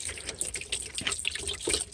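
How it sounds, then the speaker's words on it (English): Water spraying and splashing onto a freshly poured concrete slab, a steady close hiss with small trickling splatters throughout. "they say to water the concrete because I guess it helps with curing"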